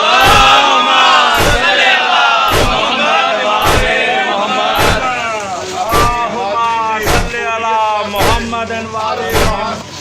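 A large crowd at an Eighth Muharram procession chants salawat loudly in unison while heavy thumps land at a regular pace, roughly once a second.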